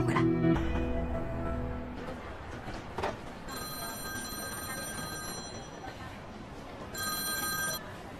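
A telephone rings with a bright electronic trill in two separate bursts. The ringing is fairly faint against a quiet room background.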